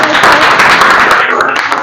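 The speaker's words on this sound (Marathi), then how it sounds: "या त्यासाठी जोरदार टाळ्या" Audience clapping for a student who has just answered a question at a village primary school quiz, a dense steady burst that stays loud throughout.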